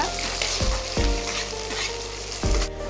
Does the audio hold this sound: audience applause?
no